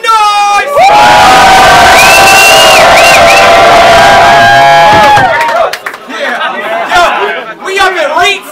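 A crowd at a King of the Dot rap battle in Vancouver roars with loud cheering and whoops for several seconds, then breaks into scattered shouts and chatter as the noise dies down.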